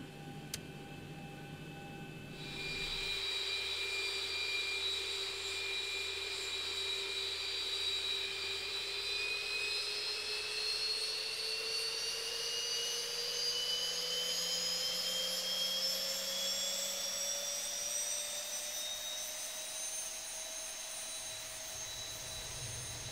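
Engine number 2 of an airliner spools up during pushback, a loud steady whine that rises slowly in pitch and holds for over twenty seconds, close and without talk.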